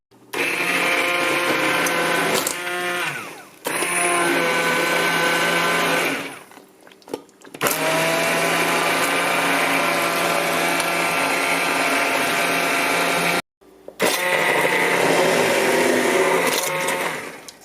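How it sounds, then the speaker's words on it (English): An immersion blender purees butternut squash and leek soup in loud, sustained whirring runs of several seconds each, broken by short pauses. "So this is an immersion blender. We want it to be submerged down underneath the liquid or else it's going to splatter everywhere."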